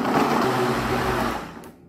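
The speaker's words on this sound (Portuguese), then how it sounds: "nós vamos bater até ela ficar aquele líquido bem homogêneo" A kitchen blender whirs loudly, churning cassava with a little water into a smooth liquid, a steady close motor drone that winds down near the end.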